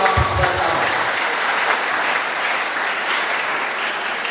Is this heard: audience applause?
yes